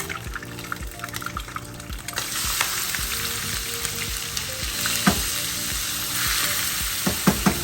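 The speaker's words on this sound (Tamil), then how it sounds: "இந்த எண்ணெயிலேயே நம்ம வெங்காயத்தை போட்டுடலாம்." Onions frying in leftover butter oil from cooking chicken, with a steady close sizzle and occasional stirring scrapes.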